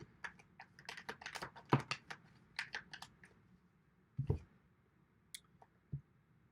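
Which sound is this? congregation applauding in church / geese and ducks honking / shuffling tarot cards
shuffling tarot cards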